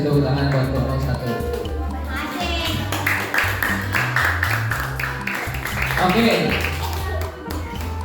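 Classroom applause for a student group, a dense burst of claps from many hands held steadily for several seconds, close and loud, with children's voices and a teacher speaking over it.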